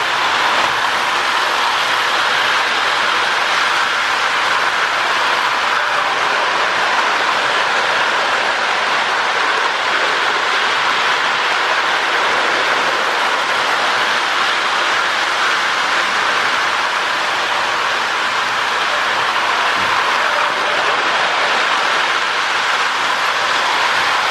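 Three Marx 21 diesel toy model trains rumble and whir steadily along a track, a continuous close mechanical hum with faint clicking throughout.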